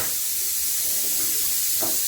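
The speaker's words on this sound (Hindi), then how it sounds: "अरे भाई ये कुकर की सीटी आ गई है" A kitchen pressure cooker vents steam as a steady, fairly quiet hiss that runs throughout, with a faint short burst near the end and no talking.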